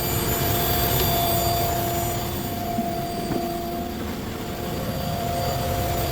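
Car engine idling with the radiator fan running, a steady whirring hum with a faint tonal whine and an even broadband roar throughout.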